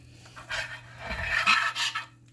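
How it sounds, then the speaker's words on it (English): A utensil scraping browned bits and juices across the bottom of a pan under chicken, three or four short rasping strokes, close and moderately loud, with no voice. "you want to scrape down everything"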